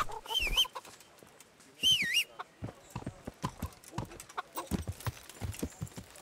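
Horse hooves clip-clop in a quick, steady rhythm in the video game Kingdom Come: Deliverance, preceded by two short chirping bird calls near the start.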